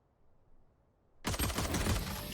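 A sniper rifle shot in the video game Valorant: near silence breaks into a sudden, loud, sharp blast that rings on as a dense burst of gunfire to the end.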